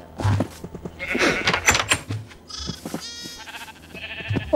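Several bleats from sheep in Minecraft overlap in a busy, close burst, followed by clearer, higher cries in short succession.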